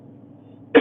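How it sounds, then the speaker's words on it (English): A single short cough bursts out abruptly at the very end, close and loud after a near-silent stretch of faint low hum. "I can't stop coughing."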